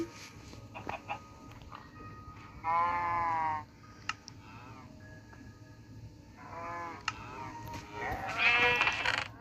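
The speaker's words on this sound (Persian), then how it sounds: "گوسفندا رو ببرم" Sheep in a Minecraft video game bleat several times, clear wavering cries spaced a few seconds apart over a low background hum, with no talking.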